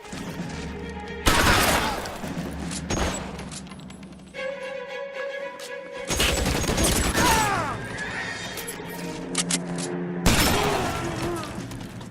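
Gunfire bursts from a shootout in the LA Noire video game ring out in several loud, separated volleys, spaced between stretches of quieter game sound and music.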